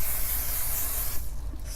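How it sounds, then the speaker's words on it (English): A steady hairspray aerosol hiss sprays close by for about a second, then cuts off, leaving a faint residual hiss. "I'm gonna put some hairspray"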